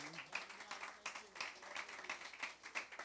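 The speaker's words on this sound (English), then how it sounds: "please, another round of applause for this great band" Audience applause for a jazz band, a steady wash of many hands clapping at moderate level for about three seconds, with no voices over it.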